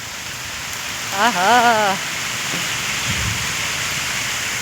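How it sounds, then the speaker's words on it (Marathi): Heavy rain pours down steadily outdoors as a broad, constant hiss, with a brief burst of laughter and a few faint voices over it. "खरंच पाऊस आलाय मोठा."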